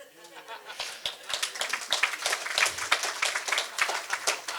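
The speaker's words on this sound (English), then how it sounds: "It's good to let the guests have a cheap round of applause to start with" An audience welcomes a guest at a live political conversation event with a sustained round of dense clapping, moderately loud and filling the room, building slightly over a few seconds.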